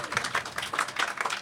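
A panel audience claps in brief, fairly quiet, steady applause with no voices over it.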